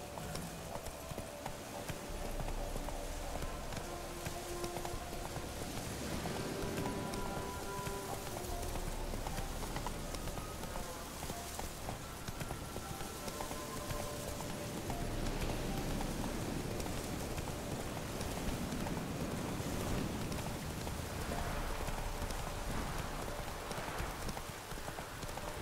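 Roach the horse galloping in The Witcher 3: Wild Hunt, a steady, rapid clip-clop of hooves running continuously for nearly half a minute over a rain-like hiss, with faint music underneath.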